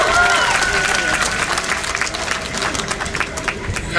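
An audience at a college's 25th-anniversary ceremony in Kupang applauds in a hall, with a thick wash of clapping running throughout while voices and a brief tonal sound are heard at the start.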